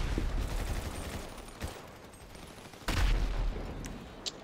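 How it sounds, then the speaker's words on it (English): Gunfire in a GTA 5 Online deathmatch, scattered shots and rattling bursts at moderate distance, with a heavier blast near the end over steady game noise. "I keep shooting the same person"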